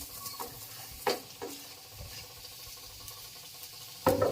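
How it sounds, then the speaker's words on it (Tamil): Cabbage, carrot and beans tossed into a hot pan for vegetable fried rice, giving a few scattered scraping stirs and soft rustling knocks, close and fairly quiet, with a louder clatter at the end. "இப்போ முட்டைக்கோஸ் கேரட் பீன்ஸ் மூணையுமே போட்டுடலாம்"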